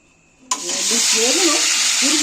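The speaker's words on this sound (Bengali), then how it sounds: "লঙ্কা গুঁড়ো দিয়েছি এটা ভালো করে ভেজে নিচ্ছি" Chili powder hits hot oil with a sudden loud sizzle that holds steady and bright, as someone speaks over the frying.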